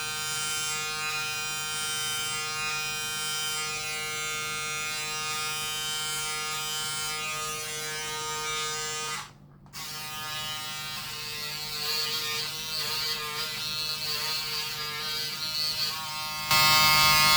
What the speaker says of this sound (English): What I'm going to try here is using the trimmer on that section, because that's been really tricky to remove.